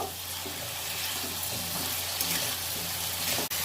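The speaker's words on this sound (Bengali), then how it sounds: "ডাল আর সবজি আমি ভালো করে ভেজে নিয়েছি" Raw pumpkin pieces and masoor dal frying together in a pan, a quiet steady sizzle with light stirring scrapes and one sharp knock near the end.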